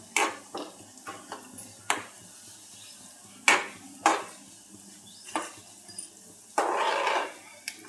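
Bombay duck fish frying with potatoes in a pan, intermittent scrapes and clinks of a spatula stirring against the pan over a faint sizzle, with a longer sizzling burst near the end.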